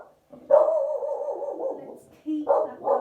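A dog in the background of an indoor Pilates mat session lets out drawn-out whining barks in two bursts with a short pause between them, fairly close and clear.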